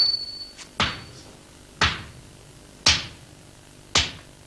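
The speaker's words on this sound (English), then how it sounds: "After the folding, the lump is beaten into its final shape." A hammer beats a folded steel lump into a sword blade, striking four heavy, evenly spaced blows about a second apart, each with a brief bright ring.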